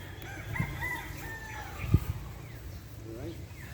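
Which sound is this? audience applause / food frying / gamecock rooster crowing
gamecock rooster crowing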